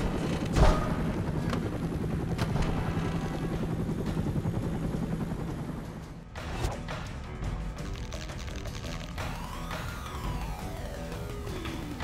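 A helicopter hovers over a boat flotilla in the action video game Stranglehold, its steady rotor drone holding loud and continuous throughout, with a sharp crash near the start and metallic impacts midway.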